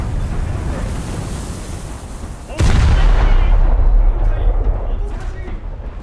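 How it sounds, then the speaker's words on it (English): A 140mm ship gun salvo from a naval warship video game booms loudly at once midway, its heavy low rumble and rush rolling on for several seconds after quieter wind and sea ambience. "these 140mm guns can do a lot of damage when they hit"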